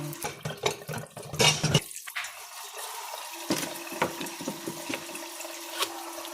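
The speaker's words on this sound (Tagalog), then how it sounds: "Lagyan natin siya ng tubig." Water splashes and runs as it pours into a cooking pot holding garlic, onion leaf, bay leaf and pepper, a brief louder gush followed by steady trickling and a few light clinks.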